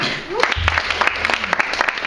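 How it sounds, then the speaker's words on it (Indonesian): Audience applause during an Indonesian customer-service seminar, a steady wash of clapping hands running the whole time, with a voice talking briefly underneath. "Nah, tepuk tangan."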